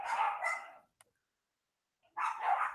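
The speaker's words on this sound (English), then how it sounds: "They're barking because they want treats." Tiny spoiled dogs barking for treats, two quick close yips at the start, a pause of near silence, then two more sharp barks.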